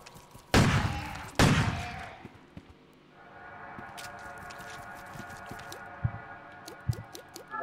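Two sharp, loud grenade launches burst out in quick succession in the PS1-style horror game Crow Country, followed by a quieter stretch of rumbling ambience with scattered thuds.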